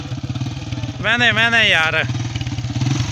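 A motorcycle engine runs steadily at a low, pulsing idle-like drone while being ridden over a rough, broken road, and a voice speaks loudly over it partway through.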